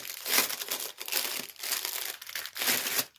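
Crinkly plastic packaging being unwrapped for a diamond painting kit, rustling and crackling in repeated loud bursts close to the mic with short pauses between handfuls.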